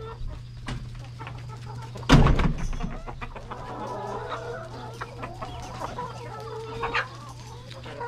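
Chickens and a rooster cluck and chatter at close range over a steady low hum, with a sharp burst of flapping or squawking near the start.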